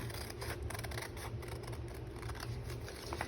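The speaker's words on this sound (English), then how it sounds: "Now you can just slightly lift up those tabs and then just cut a nice straight line" Scissors snip through paper tabs cut from book pages, a run of quick, soft, close clicks and crisp cuts over a steady low background hum, with no voices.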